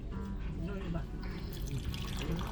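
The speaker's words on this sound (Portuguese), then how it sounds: "Sai água quente, tá vendo?" Hot water pours from a self-service dispenser for matcha, a thin trickling stream that goes on under close speech.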